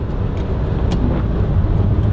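A 1959 Aston Martin DB4 driving along a road, its engine and road noise forming a loud, steady rumble with a broad hiss and a couple of brief sharp ticks.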